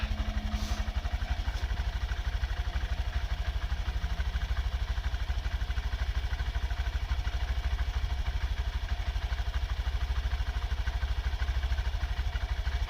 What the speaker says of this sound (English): The bike is idling with a Yuminashi high compression piston in it.